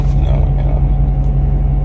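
A Maserati GranTurismo's engine and exhaust rumble loudly and close by, a deep steady drone with a slight rise, filling the short moment on its own.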